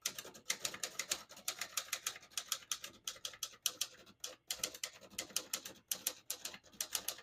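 A 1954 Smith-Corona Skyriter portable typewriter types a sentence: a quick, steady run of crisp, light key strikes at close range, with brief pauses between words.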